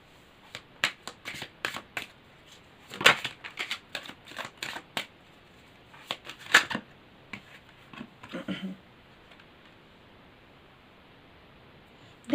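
Tarot cards are shuffled and drawn in close, crisp bursts of riffling and flicking, irregularly spaced with quiet gaps between.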